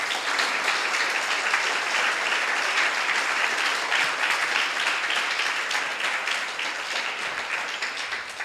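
A church congregation applauds during a sermon, a sustained dense wash of many hands clapping at a steady loud level with no voices heard over it.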